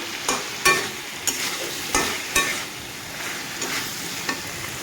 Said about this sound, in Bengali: আমি সবজিটাকে একটু নেড়ে চেড়ে কষিয়ে নিব